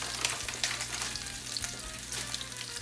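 Food sizzles steadily in hot oil in a skillet, a close, constant crackling hiss with small pops throughout and no voices.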